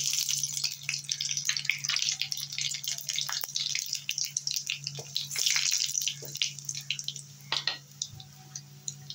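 Dried chili and nigella seeds tempering in about two spoons of hot mustard oil give a steady, close sizzle with crackling pops and spits throughout, running alone without talk.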